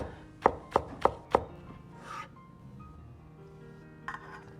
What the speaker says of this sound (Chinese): 然后斜刀切成葱丝，这样葱丝吃着就不会塞牙